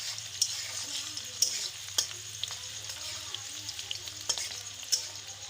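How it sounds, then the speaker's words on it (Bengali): Onions fry in a pan for a chicken kosha curry, with a steady, moderate sizzle. Sharp metallic stirring clacks land roughly once a second, up close. "পেঁয়াজ ভাজি হয়ে গেছে"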